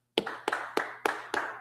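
Hands clapping in a class, five sharp, evenly spaced claps in a slow steady rhythm, close and distinct against a quiet room.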